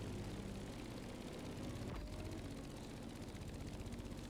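Airplane engine from the flying section of The Crew Motorfest, set in Hawaii: a steady, loud propeller drone with pulsing rhythm that holds throughout, with no talking.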